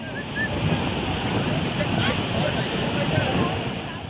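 Sea waves wash steadily onto the beach at Digha while wind buffets the microphone, a continuous broad rushing roar with no clear breaks.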